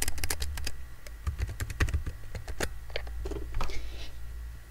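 Computer keyboard typing as a survey question is entered, with a quick, uneven run of sharp key clicks close up and brief pauses between bursts, with no voices.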